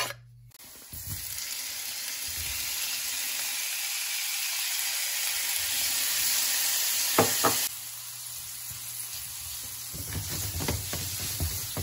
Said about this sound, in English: I'm just gonna warm up the frozen vegetables with the beef broth before I add the couscous